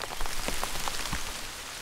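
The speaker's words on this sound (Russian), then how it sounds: "И ливень пошел, как не кстати." Heavy rain showering down in a forest during a hunting trip, a dense, even hiss of drops close by with scattered louder splats and no voices.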